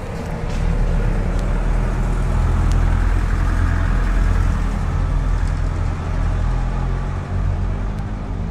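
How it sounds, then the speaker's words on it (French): A truck rumbles past outdoors, a loud, sustained low engine drone with road noise that stays heavy for several seconds and eases slightly near the end. "attendez, le camion s'y passe"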